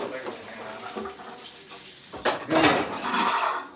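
Dishes and cutlery clatter in a home kitchen while shrimp sandwiches and salmon patties are made, soft clinks early on giving way to louder, sharper handling near the end, with voices talking throughout.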